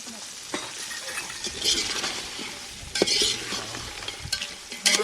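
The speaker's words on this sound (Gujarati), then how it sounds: "અને બધાને આપણે ઘડી તેલમાં સડવા દઈએ" Chopped ivy gourd and cluster beans fry in oil in a pan for Kathiyawadi undhiyu, a village-style dish. Close, steady sizzling runs throughout, broken by stirring scrapes and a few louder clinks.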